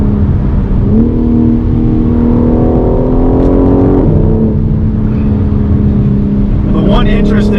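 A BMW M4 Competition xDrive G82 driven hard through corners, its engine note rising and holding steady under load, loud and close from inside the cabin, with someone talking over the drone.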